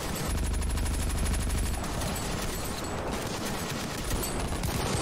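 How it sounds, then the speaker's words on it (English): Sustained WWII-era gunfire rattles through a D-Day Omaha Beach battle in the Ravenfield WW2 mod, rapid machine-gun bursts and overlapping rifle shots forming a dense, continuous fusillade for several seconds. "Oh, I'm getting shot from behind."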